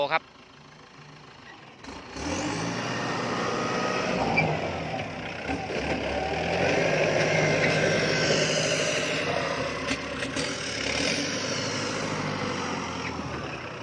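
A heavy tractor engine drones steadily and loudly at the soft edge of a pond, its rumble swelling and easing as it labors, with a voice talking over it.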